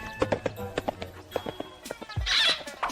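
Horse hooves clip-clop in a quick, uneven rhythm, close and fairly loud, in a historical imperial setting; a shout and a brief whinny-like squeal break in near the end.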